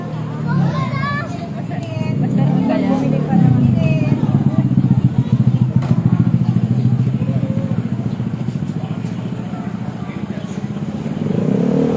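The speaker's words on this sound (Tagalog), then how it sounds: "Ipapasok ko lang yung motor." A motorcycle engine idles and rumbles close by as it is wheeled in at a street food feeding program in Pasay City, its low drone steady under a busy crowd's chatter and nearby voices.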